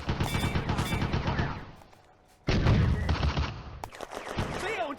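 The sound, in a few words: gunfire in the video game Firefight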